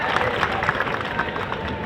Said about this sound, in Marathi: एकदा संग्राम भैयासाठी जोरदार टाळ्या वाजून आपण त्यांना मनापासून धन्यवाद देऊयात